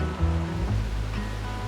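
White water river rapids rush loudly and continuously, a steady churning roar of turbulent water with no voices.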